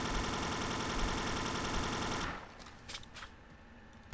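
Rapid automatic gunfire from the blocky multiplayer shooter Ace of Spades crackles loud and dense for about two seconds, then cuts off, leaving a few scattered sharp in-game sounds.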